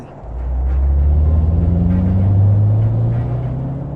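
A car engine pushed hard through a yellow sandstorm, a steady loud low rumble and whir that swells slightly as it accelerates and holds without a break.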